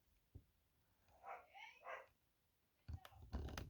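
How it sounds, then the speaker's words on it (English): A dog barks a few times in the background, faint and somewhat distant, followed by louder clicking and handling noises close by. "Don't mind the dog in the background."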